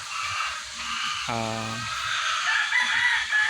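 A brief rooster-like crow or cluck rises once amid steady background noise, with faint murmuring and scattered softer bird sounds around it.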